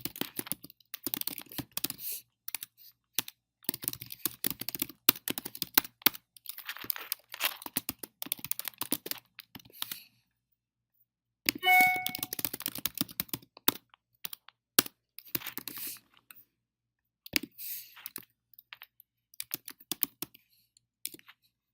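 Customer information typed on a computer keyboard, rapid clattering keystrokes in bursts separated by brief pauses, close and fairly quiet with no voices.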